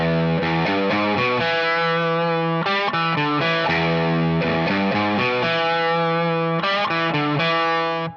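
A distorted electric guitar plays a chugging, repeating riff, loud and close with no talking over it.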